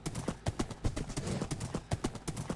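Rapid, steady clip-clop of a horse's hooves in a video game, repeated beats close and clear with a faint whinny-like tone underneath and no talking.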